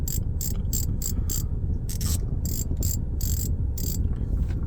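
A Shimano Stella SW4000HG saltwater spinning reel is cranked by hand, its gears giving a continuous close mechanical whir with bursts of bright ratcheting clicks that start and stop in an uneven rhythm.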